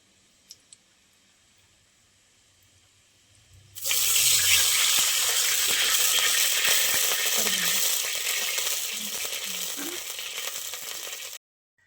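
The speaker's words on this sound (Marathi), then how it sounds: "जिराला तडका बसल्यावर आपण त्याच्यामध्ये पाणी घालणार आहोत" Water poured into hot oil with a cumin tempering makes a sudden loud, steady sizzle and hiss that lasts several seconds after a brief quiet start, then cuts off abruptly.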